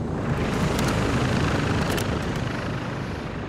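A helicopter approaches in Call of Duty Modern Warfare 2, a loud, dense rotor-and-engine roar that stays steady and close throughout.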